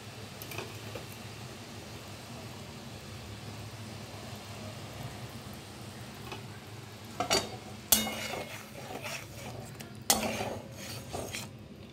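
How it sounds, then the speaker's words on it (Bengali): Kajori fish go into a simmering curry of ground mustard, salt, turmeric and chilli: a soft bubbling hiss is broken by several sharp clinks and splashes of the fish and utensils against the pot near the end. "এবারে আমি এই মাছগুলো ঝোলটায় দিয়ে দেব"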